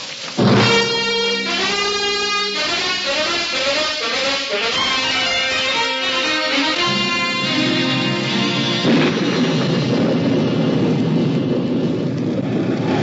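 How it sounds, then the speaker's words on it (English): Stormy wind and rain roar loudly and steadily, with deep rumbles and howling tonal swells early on, then a dense hiss of rain. "The next night was dark and stormy. Gusts of wind and spits of rain caught us"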